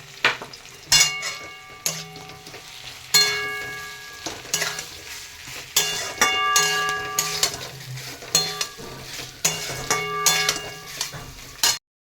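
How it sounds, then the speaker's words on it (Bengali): Teasel gourd frying in a pan as coconut paste goes in, with a soft sizzle under repeated sharp metallic clinks and scrapes of a utensil against the pan, arriving in irregular bursts before stopping abruptly near the end. "অনেকটাই ভাজা হয়ে গেছে। এখন দিয়ে দেবো নারকেল বাটা"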